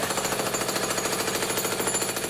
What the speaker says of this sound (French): Marteau-piqueur, 110 décibels.